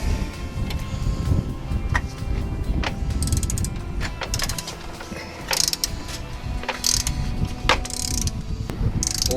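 Breaker bar turning over an engine in a garage while setting timing, near a loose fan pulley: continuous loud mechanical clicking, ratcheting and metallic creaks, with sharper clanks scattered throughout.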